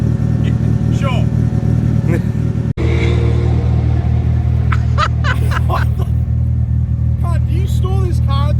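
A Nissan S13 engine drones steadily with a low rumble while driving laps, with people talking over it throughout and a brief dropout midway.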